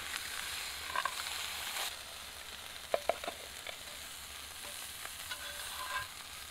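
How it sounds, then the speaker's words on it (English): A one-pot stir fry sizzles steadily in a pan while camping off grid in a small cargo trailer in winter, with a soft continuous hiss broken by a few sharp crackles and light utensil clicks, close and fairly quiet. "we'll cook them all in together as like a big stir fry"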